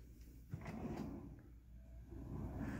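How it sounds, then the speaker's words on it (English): A soft-close desk file drawer glides on undermount runners, a low steady sliding rumble with a small bump near the start, heard up close with no talking. "All drawers are soft closed with undermount runners."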